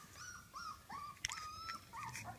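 Several young puppies whimper and yip in a run of short, high, whining cries with brief pauses between them, heard up close against a quiet background.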